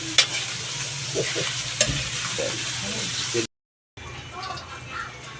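Shrimp sautéing in a hot pan gives a steady loud sizzle with occasional stirring scrapes. The sound cuts out briefly to silence and then resumes more faintly.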